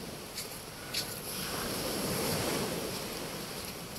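Sea waves wash at a beach in a continuous broad rush, with gusty wind noise on the microphone and a slow swell in loudness midway.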